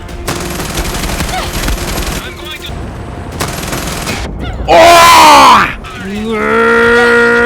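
Gunfire in the video game Far Cry 6 bursts out in loud rapid volleys, broken by short gaps, with a shout and groaning voices close by.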